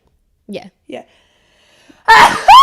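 A short burst of breathy noise, like a sneeze, comes after a couple of brief quiet vocal sounds, followed by a voice speaking up close.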